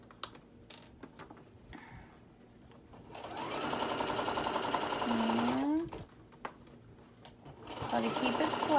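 A sewing machine stitches fabric for bowl koozies in a sustained whirring run of a few seconds, with brief bursts before and after, close by among small clicks and a spoken voice.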